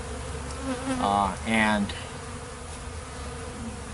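A swarm of honey bees drones steadily around sugar water feeders, a continuous close buzz with brief louder swells as individuals pass near, and a voice briefly present.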